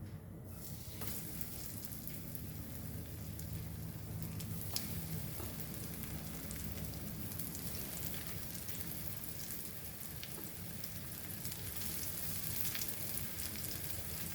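Sliced potatoes coated in rava fry in hot oil, giving a continuous, even, rain-like sizzle that stays quiet and close throughout, with no talk.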